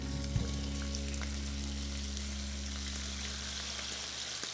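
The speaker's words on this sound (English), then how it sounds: "This is definitely hot, so let's get this bacon cooking." Bacon frying in a hot pan, rendering its fat while cooking for spaghetti carbonara, gives a steady close sizzle with a low hum beneath and one brief knock near the start.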